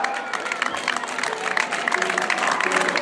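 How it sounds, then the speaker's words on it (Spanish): Spectators clapping and cheering for a runner at a popular road race in Meaño, a busy mix of applause and crowd noise throughout, with voices mixed in. "Este aplauso para Enas."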